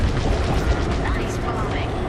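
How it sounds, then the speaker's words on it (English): Bombs dropping and exploding in the Star Wars Squadrons space combat game, a dense run of loud booming blasts and rumble layered with mechanical noise, heard alongside voice chatter. "On my mark, it's bombs away. Now!"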